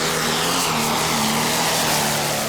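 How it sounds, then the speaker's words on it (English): John Deere pulling tractor at a Danish championship pull in Herning, engine opened up at full throttle: a loud, sustained roaring drone with a steady pitched whine running throughout. "Mikkel Galsgaard opening up the John Deere"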